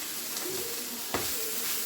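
Potatoes frying and being stirred in a cheap, slippery pan on a stove: a steady low sizzle with a single sharp scrape or clatter partway through, close and alone without voices.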